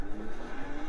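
Car engine in an Xbox racing video game played with a PlayStation wheel through a DriveHub adapter, a steady droning hum at moderate loudness with a slight revving lift, continuous through the short stretch with no talk.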